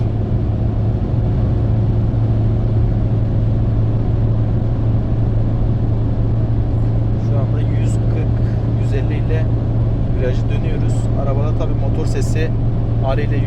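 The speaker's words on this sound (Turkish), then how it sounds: "Şu anda ayağım tıpa gaz 5. vitesteyiz." A 2012 Ford Fiesta 1.4 TDCi diesel, 70 PS, accelerating at full throttle in fifth gear. A loud, constant low engine drone with a steady hum runs under road noise, and a voice talks over it in the latter half.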